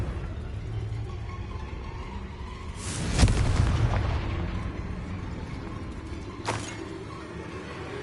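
A Confringo spell explosion in the Hogwarts Legacy video game: a deep booming blast with rumbling decay, followed a few seconds later by a second, smaller boom, over a low ambient game background.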